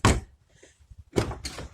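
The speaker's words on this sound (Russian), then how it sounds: "Пробуем, открываем, закрываем дверь." A Renault Logan car door shuts with a dull, muffled thunk, followed by two more short knocks of the door and latch, close by with no speech.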